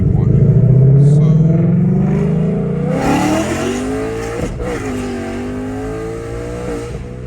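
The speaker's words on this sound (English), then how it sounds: "It hit the rev limiter." A Ford Mustang Dark Horse with a 6.0 engine in track mode accelerates hard in third gear, the engine note climbing steadily to a loud buzzing rev limiter, then dropping as it backs off, heard from inside the car.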